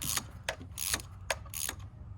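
A new NGK spark plug being tightened into an S550 Mustang GT with a ratchet, giving several short, close clicking bursts at irregular intervals.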